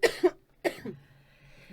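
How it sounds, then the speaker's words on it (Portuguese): A person coughs twice in quick succession, each cough a short double burst, followed by quieter breathing and faint vocal sounds. "Tosse e respira."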